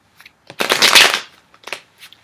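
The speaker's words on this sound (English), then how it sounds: "So I'm trying to shuffle really well so you don't get anything from anybody else's reading." Tarot cards riffle in one loud, crisp burst of shuffling, followed by a few softer, short flutters of cards close by.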